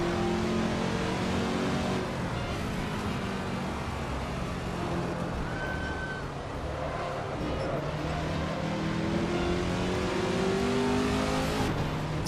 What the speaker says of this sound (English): This car sounds like an aeroplane.